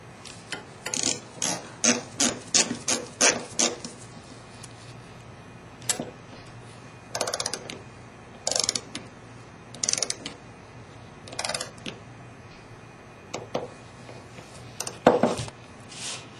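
A torque wrench tightening the holder bolts on an OPTISEP 800 filter holder toward 25 inch-pounds gives a series of sharp ratcheting clicks. They come in quick bursts, then in spaced single clicks, up close and with no talk.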